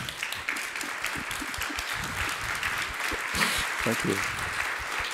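Standing applause at a science summit, a steady wash of clapping across the room with a voice speaking briefly over it.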